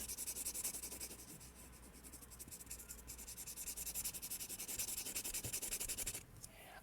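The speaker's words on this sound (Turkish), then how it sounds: "Kalem sesiyle rahatlayın." Pencil drawing on an eggshell while sketching an owl pattern, a steady close scratchy rubbing of graphite on shell that runs continuously and evenly, then stops near the end.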